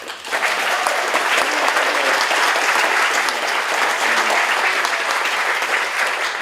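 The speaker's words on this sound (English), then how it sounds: "a round of applause for Jesse for doing such a great job" Guests at a chamber of commerce luncheon give a sustained, loud round of applause, thick and continuous from start to finish with no voices over it.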